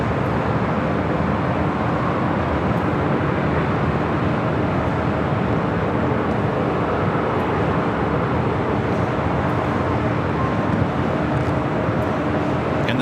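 An airliner flies past at Los Angeles LAX airport, heard from a hotel as a loud, steady broadband jet roar that holds evenly throughout with no voices.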